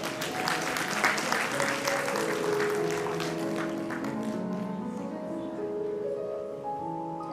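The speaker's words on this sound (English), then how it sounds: "I think the court team also deserves a big round of applause." An audience gives a round of applause for a court team at a ceremony: busy, close clapping that swells early and slowly tapers, with sustained musical tones rising underneath.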